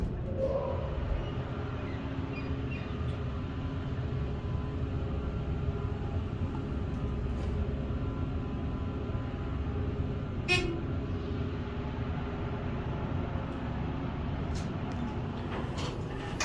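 Dover hydraulic elevator motor in a hotel-casino tower lobby starting up and running, a steady low hum and whine with faint clicks and a few short beeps over it, sustained and fairly close.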